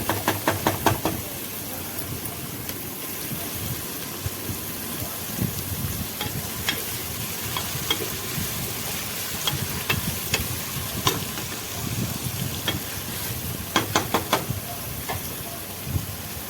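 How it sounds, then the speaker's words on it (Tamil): Onions sauté in a pan for mutton biryani, with a continuous sizzle and repeated sharp clicks and scrapes of a ladle stirring against the vessel, close and fairly loud, no talk. "வெங்காயம் நல்லா வதங்கணும்."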